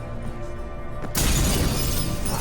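One sharp crash of a mirror shattering in The Witcher 3 cuts in after a second of quiet game ambience, a loud, hissing spray of glass that lingers to the end.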